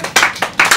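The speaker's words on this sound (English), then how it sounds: "Let's give this young man a round of applause." A few sharp, close hand claps in quick, uneven succession from an audience at a blues camp, greeting a 17-year-old blues singer.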